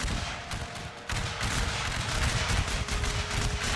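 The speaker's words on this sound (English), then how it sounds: "A firefight has started. And we're pushing down fire upon the enemy." Dense battlefield gunfire in a strategy war game, continuous rattling volleys and crackling shots layered into a loud, unbroken roar with no pauses.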